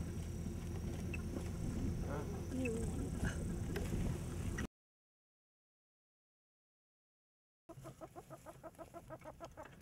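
Attwater's prairie chickens clucking and calling close by during an outdoor release, steady chatter with a gap of silence, then rhythmic clucks resume.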